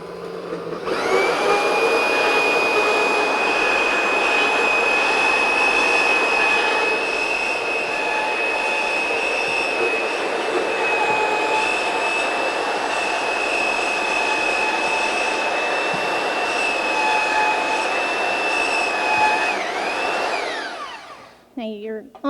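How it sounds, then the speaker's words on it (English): A power grinder works a horse's shoe during farrier trimming, a loud sustained high whine that holds steady for about twenty seconds before winding down, with no talk over it. "And then we'll do our grinding."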